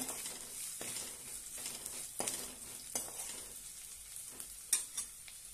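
Roasted ground coconut is stirred in a pan for a cowpea, brinjal and potato curry, a soft hiss under a few scraping spoon strokes, quiet and close.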